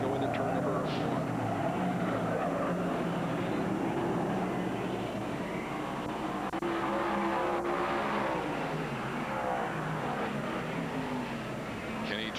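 Dirt track race cars at Lebanon Valley in 1996 roar down the front straightaway into turn one, a loud, dense pack of engines with rising and falling pitch under an excited announcer.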